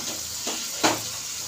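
A spoon scrapes and stirs cauliflower and potato bhaji in a pan, with two brief soft scraping strokes over a faint background hiss.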